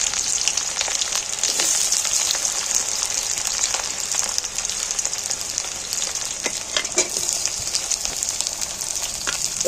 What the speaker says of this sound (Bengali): পেঁয়াজগুলো তেলের মধ্যে তুলে দিই।